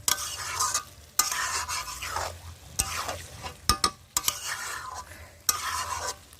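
Chicken pieces sizzle in a pan while a utensil stirs and scrapes them in bursts, the frying hiss rising and dropping between strokes, with a few sharp clinks against the pan.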